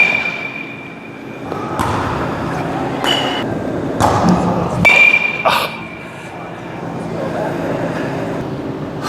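Baseball bat connecting with pitched balls in an indoor batting cage, several sharp metallic pings spaced a second or so apart with thuds and a faint background hum.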